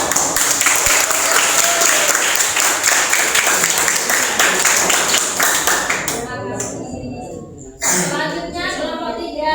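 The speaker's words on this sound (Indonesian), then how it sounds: "Bagus, tepuk tangan." A classroom of students in an Islamic studies lesson breaks into loud, dense applause that holds for several seconds and then thins into a few sparse claps as the noise drops away.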